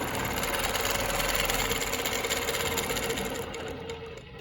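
Longarm quilting machine stitching a Baptist Fan pattern across a quilt, a steady dense mechanical whir that runs evenly, close and fairly loud, then eases slightly near the end, with no talk.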